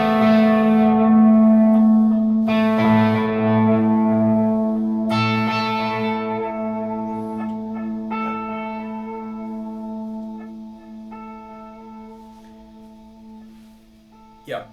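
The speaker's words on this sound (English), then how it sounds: "what I usually have on this Eventide H90 is this longish tape delay" Guitar chords run through a long tape delay on an Eventide H90 pedal, each strum repeating in ringing echoes that slowly decay over many seconds, with a few fresh strums layered in and no voices.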